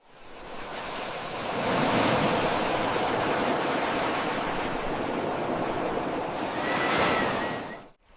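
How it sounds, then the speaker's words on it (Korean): Ocean waves break steadily on the shore in a broad, continuous roar of surf that swells and washes for several seconds without any voices. "호모사피엔스의 사람들은 둘러앉아 파도 소리에 귀를 기울였다"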